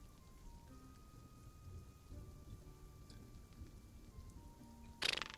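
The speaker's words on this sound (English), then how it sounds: "sounds like the storm is passing" Steady rain with low rumbling thunder from a passing storm, a continuous wash of rainfall at moderate level that swells into a brief louder burst near the end.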